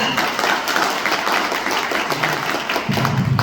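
Vigorous crowd applause at a motivational business meeting, dense and steady with individual claps popping through, sustained for several seconds with faint voices underneath.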